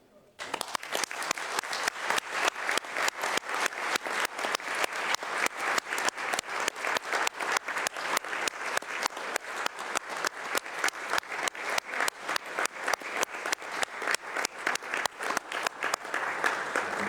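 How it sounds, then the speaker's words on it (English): Sustained applause from an audience at the First Global Skin NTD Meeting, steady dense clapping that fills the room for the whole stretch after a brief quiet start, with faint speech underneath. "to give these people a very big applause."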